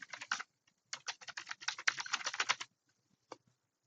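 Rapid keystrokes on a computer keyboard while setting up a code editor: a short burst of clicks, a pause, then a longer quick run of taps and one final tap, close and quiet.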